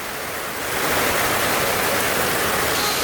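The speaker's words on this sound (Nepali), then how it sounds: "खोला बगिसक्यो हेर्नु त डेन्जर खोला बग्छ" A swollen, dangerous stream after rain rushes past near a house, giving a loud, continuous hiss and roar that swells slightly in the first second and then holds steady with no voices.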